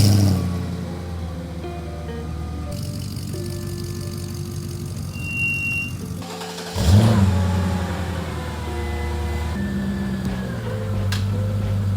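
A Mercedes CL55 AMG's hand-built 5.4-liter V8 runs steadily in a garage, its rumble shifting pitch midway with a sharp rev burst before settling back into a sustained, fairly loud drone.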